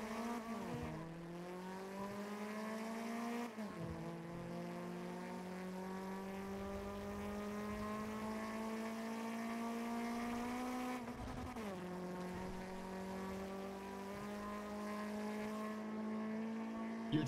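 A car engine in a GTA race holds a sustained, buzzing whine across long gear pulls. Its pitch drops sharply at each shift, then climbs slowly again, steady and fairly loud, no voices.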